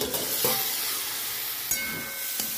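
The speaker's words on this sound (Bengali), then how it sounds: "এবার ভালো করে ভেজে নেব" Spiced cabbage filling for paratha frying in a pan: a close, even sizzle broken by a few light clinks and scrapes as it is stirred.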